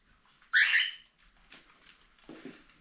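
Pet cockatiels beside a cardboard nest box give one loud, shrill call close by, followed by a few fainter chirps in a quiet room.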